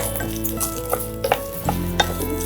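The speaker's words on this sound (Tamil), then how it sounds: "மிளகு கல்லுப்பு இதையெல்லாம் சேர்த்து நல்லா வறுத்துடும் கருகாமல் வறுக்கணும் இதை" Pepper, rock salt and turkey berries are dry-roasted in a pan and stirred, with scraping, rattling stir strokes and a few sharper clinks over a low sizzle, close and fairly loud, with no talk.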